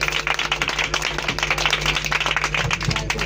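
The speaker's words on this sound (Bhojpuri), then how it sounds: "सभी लोग ताली बजाएं।" Audience applause at a schoolgirl's birthday gathering, a steady patter of many hands clapping at moderate distance for a few seconds, with a faint hum underneath.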